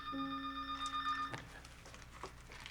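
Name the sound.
telephone ringing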